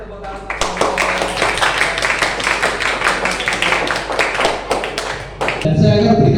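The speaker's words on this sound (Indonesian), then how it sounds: "Oke, kita kasih tepuk tangan" Students in a classroom clap their hands together for several seconds, a close, uneven patter of claps that stops abruptly before a voice speaks.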